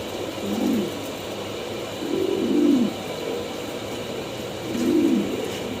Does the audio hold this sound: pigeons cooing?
yes